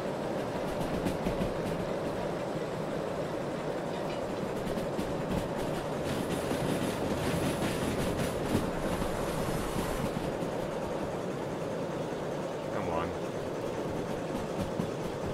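Locomotive wheels slip in the Derail Valley train simulator as an S282 steam engine climbs a 3% grade, with steady rumbling rail noise and a harsher scraping stretch midway.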